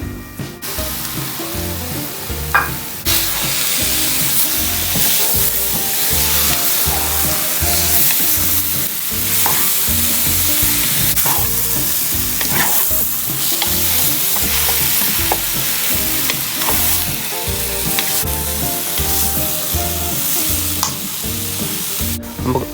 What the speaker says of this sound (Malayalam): ബീഫ് ഇട്ട് കൊടുത്ത് നല്ലതായിട്ടൊന്ന് മിക്സ് ചെയ്യാം.